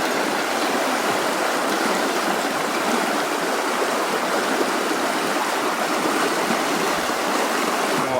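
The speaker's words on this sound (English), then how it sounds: "We're at the bottom of a rapids" River rapids on the Root River churn in a steady, dense rush of white water, continuous and close with no pauses.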